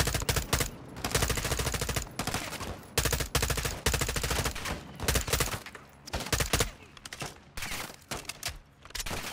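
Sustained gunfire in the Call of Duty: Modern Warfare 2 campaign mission Cartel Protection, with loud, rapid automatic bursts and dense repeated shots filling the whole stretch, no talk.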